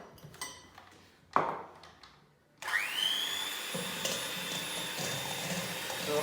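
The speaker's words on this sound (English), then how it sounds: "we're just going to start to whisk" A whisk beats eggs and sugar in a bowl for chocolate fondants, a steady, close, continuous whirring hum that starts abruptly after a few faint knocks and carries on unbroken.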